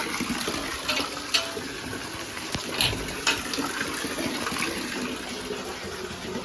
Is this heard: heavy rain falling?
yes